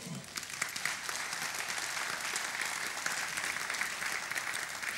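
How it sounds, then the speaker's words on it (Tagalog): A church congregation claps for the Lord, a continuous dense ripple of hands from a large room that stays even and moderately loud from start to finish. "Pumalakpak kay Lord."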